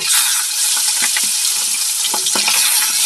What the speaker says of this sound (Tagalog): Sobrang init na, ilalagyan na natin itong ating isdang yellowfin.